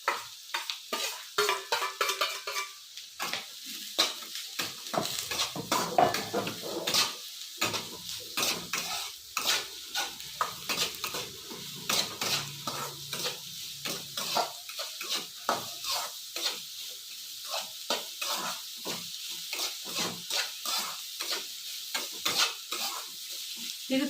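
Bottle gourd being stir-fried in a pan for chitranna: steady sizzling frying under repeated scraping and clinking of a spatula against the pan, irregular and close.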